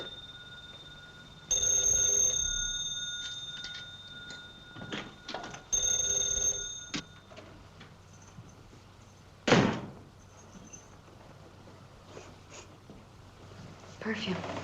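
An old-fashioned 1930s telephone bell rings in two bursts, each lasting about a second, with a sharp knock or slam afterward.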